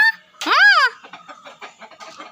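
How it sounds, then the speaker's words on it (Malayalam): A hen lets out one loud, drawn-out squawk while being chased by a cat, then a quick run of short, fainter clucks, close by. "ഇതാ പൂച്ച പൂച്ച ഓട്ടിക്കുന്നു കോഴിയെ"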